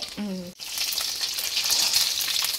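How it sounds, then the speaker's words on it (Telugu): An egg drops into a hot pan for egg Maggi noodles: after a brief pause, a loud, steady broadband sizzle starts and keeps crackling evenly close by. "ఇప్పుడు నేను ఎగ్ పలగొట్టి వేస్తున్నా"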